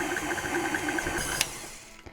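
A KitchenAid stand mixer beats molasses into sugar to make homemade brown sugar, a steady mechanical whir with a regular pulsing rhythm, close and moderately loud, that winds down near the end with a brief clunk.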